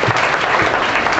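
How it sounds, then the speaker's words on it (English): A comedy festival audience in Toronto gives a short, dense burst of clapping and applause for the performers, close and loud throughout. "Let's have a hand for all 15 of the performers tonight, people"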